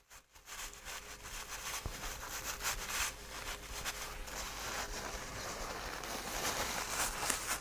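A cloth wipes WD-40 off the casing of a National Panasonic R-358B radio, giving close, continuous rubbing and scrubbing strokes of varying intensity with no voices.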